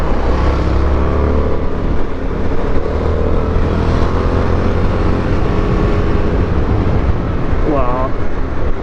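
Indian FTR1200 motorcycle engine pulling strongly while riding, a loud continuous torquey drone mixed with wind rush, with a voice briefly audible near the end.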